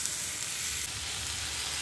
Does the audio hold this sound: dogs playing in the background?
no